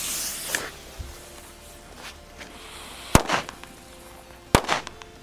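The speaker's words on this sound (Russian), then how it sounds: "Как оказалось, Корсар 4А также взрывается два раза." Korsar 4A firecrackers bursting outdoors, two sharp loud bangs spaced apart, each with a short crackling tail, over quiet background with a few fainter pops and hiss.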